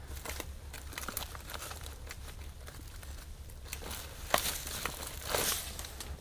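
Spiky dead fronds being pruned off a pygmy date palm outdoors, soft crinkling and rustling of dry leaves with a few sharper snaps and a brief crunchy tearing burst near the end.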